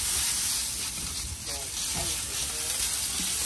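Apple cider vinegar and apple juice spritzed onto a roasting pig, heard as a steady hissing spray with faint sizzling close by and brief voices underneath.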